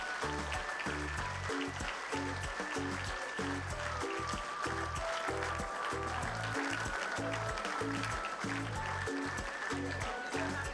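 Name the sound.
audience applause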